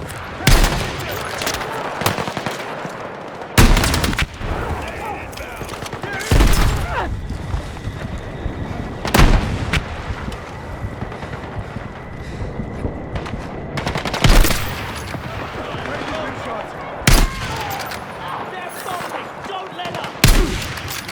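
Battlefield 6 video game combat with repeated bursts of machine gun fire and sharp gunshot cracks, loud and close, recurring in waves over a steady din of battle noise and occasional voices.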